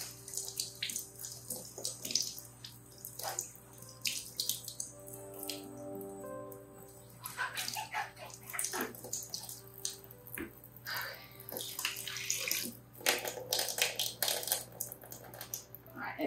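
An EZ Roller paint stick is rinsed with water, giving splashing, gurgling and dripping sounds in uneven bursts, with suction and squirting noises between, all close up over a low steady hum.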